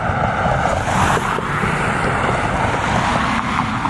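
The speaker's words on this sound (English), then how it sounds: "There are noises of cars, but I know you can hear me." Passing car traffic near a lakeside walk, a steady, loud broadband road rumble with a vehicle swelling by in the foreground.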